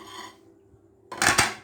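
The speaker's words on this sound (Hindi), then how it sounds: "बर्तनों को साइड में कर लेते हैं।" Pots and pans shifted aside on a kitchen counter while mutton curry is being cooked in a pressure cooker: a short pair of metallic clanks and scrapes, close and fairly loud, after a quiet pause.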